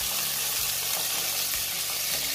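Sausage fries in a skillet, already browned, giving a dense, constant sizzle and crackle that stays close and steady throughout, with no voices.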